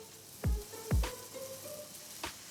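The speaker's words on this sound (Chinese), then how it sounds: "我现在要开始煎那个沙爹肉" Satay meat fries in a pan with a faint, quiet sizzle, broken by two soft thuds close together near the start and a lighter tap toward the end.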